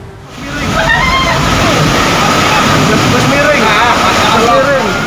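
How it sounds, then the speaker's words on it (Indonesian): Flash flood water surges through the Dieng highlands of Banjarnegara, overflowing onto a road with a loud, continuous rushing roar and sloshing, while voices talk faintly beneath it. "Dalam rekaman terlihat arus deras air yang meluap hingga ke jalan."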